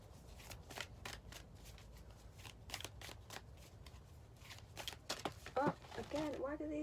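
A large deck of spirit animal oracle cards is shuffled by hand in quick, repeated papery bursts close up, with a voice speaking toward the end.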